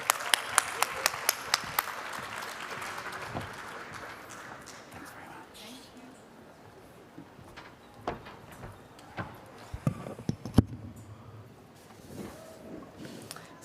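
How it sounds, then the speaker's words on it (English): Conference audience applause for a session moderator: a short burst of scattered clapping that thins out quickly, followed by sparse individual claps, footsteps and room noise as a speaker begins. "A warm round of applause, please,"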